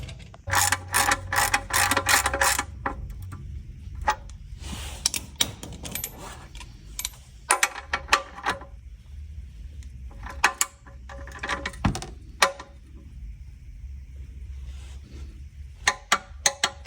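A torque wrench ratchets while tightening the sump plug on a 2017 Peugeot 308 1.6 HDi during an oil service, making bursts of rapid close clicking separated by pauses and single knocks.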